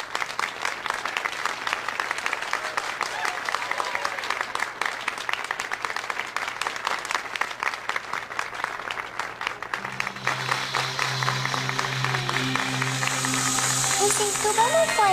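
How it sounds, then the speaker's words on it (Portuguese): Applause for schoolgirls receiving awards at a prize ceremony, steady clapping running under a voice, then music swelling in toward the end. "Vamos aplaudir todas elas."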